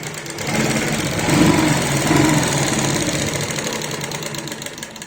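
Sewing machine running steadily as it stitches a straight seam along a cloth bag, a continuous close mechanical whir with a slight rise and fall in loudness and no talk.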